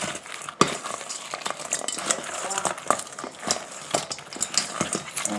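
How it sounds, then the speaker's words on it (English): Saucy chicken wings being tossed and mixed in a bowl of thick sauce for air fryer wings, with wet squelching, scraping utensil clicks and a few sharp knocks in steady bursts, close and moderately loud. "Go ahead and mix it around, guys."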